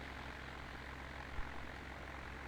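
Steady, fairly faint drone of a propeller aircraft engine during landing, continuous and even with one brief thump partway through.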